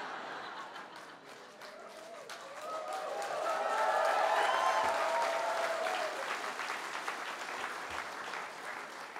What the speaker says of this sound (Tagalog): Sarap po ng palakpak nyo